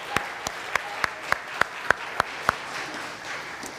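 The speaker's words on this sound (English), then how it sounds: "let's just give Rebecca and all those that serve in our kids a round of applause" Congregation applause in a church service for kids' ministry volunteers, a broad bed of clapping with a rhythmic series of sharper claps, about one every third of a second, standing out close before easing off.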